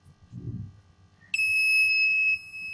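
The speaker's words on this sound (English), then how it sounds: "whenever it detects some motion, it activates the alarm as well as the light, LED light" A homemade Arduino motion-triggered security alarm starts up after a soft thump, emitting one loud, piercing electronic tone held for about a second, close by, before cutting off.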